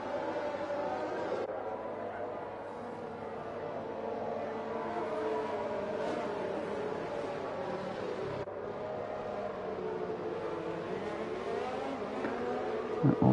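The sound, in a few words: racing cars driving in video game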